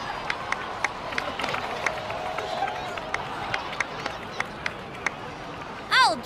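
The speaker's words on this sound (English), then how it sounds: "so please give another round of applause for them" In the video game Genshin Impact, a crowd claps and cheers over steady rhythmic thumps like footsteps, and a bright rising chime sweeps up at the very end.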